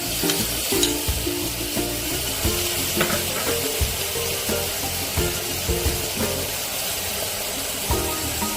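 Onion paste sizzles in a pan for an oil-free Bengali fish curry, with steady frying crackle and scraping stirs from a spatula. The stirs knock at irregular intervals over the continuous hiss, close and moderately loud.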